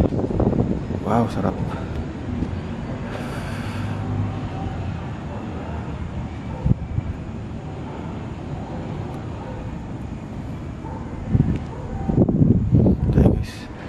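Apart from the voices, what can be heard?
wind on hospital rooftop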